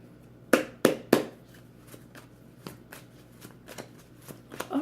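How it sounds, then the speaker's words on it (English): Tarot cards are shuffled close up: three sharp riffling bursts come in quick succession, followed by softer, scattered card taps and slides. "I'm shuffling right now."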